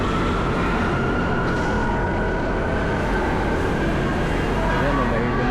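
An MRT train arrives along EDSA in Quezon City, a loud, steady rumble of rail cars with heavy traffic and city noise blended in throughout.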